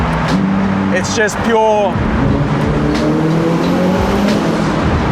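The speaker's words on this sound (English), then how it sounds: "That induction noise is sensational." A Ferrari SF90 XX on the move gives a steady engine drone and induction whoosh with a brief rising rev in the middle, while someone talks over it inside the car.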